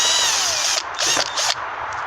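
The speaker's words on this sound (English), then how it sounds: "drill periodically 3 holes and screw it in" A power drill whirs loudly and steadily, then stops and restarts in two short bursts as screws are driven in to fit speakers in a Ford Mondeo, close by.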